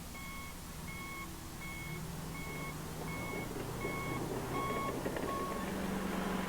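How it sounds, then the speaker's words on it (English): A John Deere H-Series bulldozer's backup alarm beeps in an even rhythm, about two beeps per second, over the low rumble of its heavy engine. "Even though the backup alarm is sounding"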